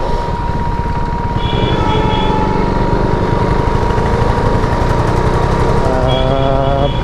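A KTM RC390 single-cylinder motorcycle with a Powertronic V4 tune and stock BS3 exhaust runs steadily close by, its engine note holding a continuous loud drone with slight shifts in pitch throughout.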